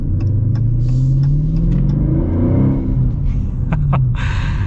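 A Dodge Challenger Scat Pack Widebody with a manual gearbox and a 6.4-litre Hemi V8 rumbles deep and close, its throaty idle swelling into brief revs before settling back to a steady burble.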